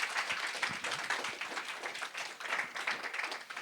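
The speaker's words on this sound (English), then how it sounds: "Can we give a massive round of applause for Caleb Birchall" A small live podcast audience claps for a guest, a brief, fairly quiet patter of hands with no talk over it.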